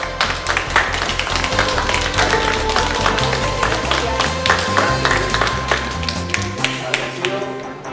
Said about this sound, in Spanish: ¿Lo hacemos con un aplauso?